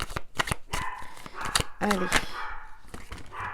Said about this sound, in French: je sais que c'est un chien, on ne peut pas l'empêcher d'aboyer